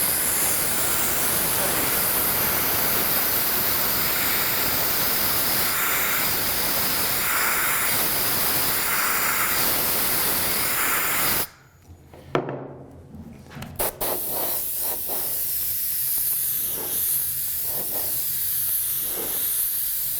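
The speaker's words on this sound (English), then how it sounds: "Let's use magic air blower on this one." Air blower spraying black candy paint, a loud steady hiss of rushing air that stops abruptly partway through, followed by handling clatter and then a softer renewed blowing.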